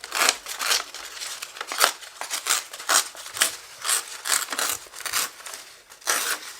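Scissors trimming journal paper, a run of crisp snipping and crinkling strokes in an irregular rhythm, close and fairly quiet, with no speech.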